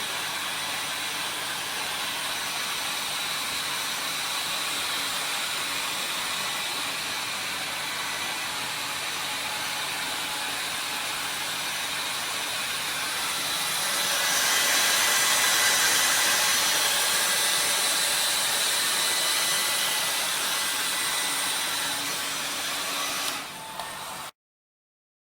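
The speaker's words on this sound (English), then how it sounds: "we have to dry the specimen using the dryer." A hair dryer blows a steady, loud broadband hiss over a freshly washed austenitic stainless steel specimen in a lab, swelling briefly louder partway through before cutting off abruptly at the end.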